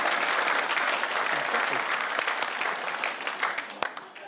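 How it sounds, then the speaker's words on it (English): Studio audience clapping at a British comedy panel quiz show, a full, dense burst of applause that holds strong and then thins toward the end with a few scattered louder claps, no talk over it. "They're clapping."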